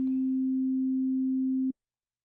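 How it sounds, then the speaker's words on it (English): A pure, steady sine-wave tone from the Arturia Pigments software synthesizer holds at a low-mid pitch for under two seconds, then cuts off into silence. "I want to hear the sine wave,"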